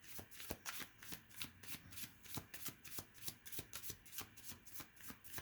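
Tarot cards being shuffled during a reading, a steady, rapid rhythm of soft riffling slaps and flutters repeating evenly throughout, close and fairly quiet, with no voice.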